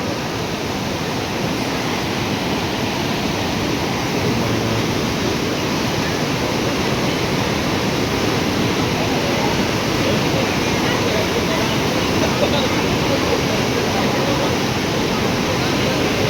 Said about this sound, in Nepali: पुरै खोला चाहिँ बजारमा आइपुगेको छ